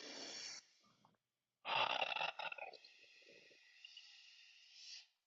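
A group of people draw a deep cleansing breath together, heard as a rough, noisy exhale, a short pause, then a loud rasping breath and a long sustained airy breath that fades out.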